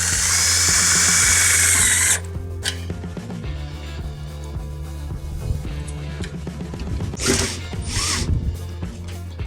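Power drill driving screws into an aluminum stair railing, starting with a loud high whine that drops into a steady ratcheting, grinding mechanical churn with a sharp burst near the end, close by.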